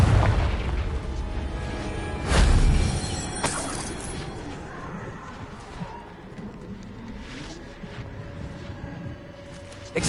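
A Confringo blast spell explodes in Hogwarts Legacy with a heavy booming burst, followed by a fainter second crack and a rumbling, fading tail of battle noise.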